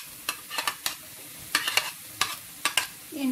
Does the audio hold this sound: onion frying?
yes